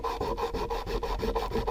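White compound being rubbed onto a leather strop for sharpening edged tools, a steady back-and-forth rasping rub repeated in quick even strokes, close and fairly loud with no talking.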